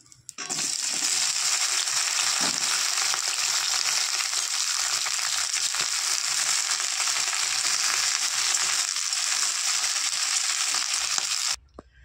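Loud, steady sizzling of okra frying in hot oil, starting abruptly and crackling continuously for several seconds before stopping.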